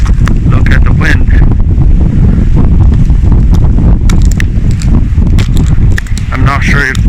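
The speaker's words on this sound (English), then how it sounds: "Look at the wind." Strong outdoor wind, gusting up to about 70 km an hour in cold Canadian weather, roars and buffets the microphone loudly and continuously, with a voice speaking over it.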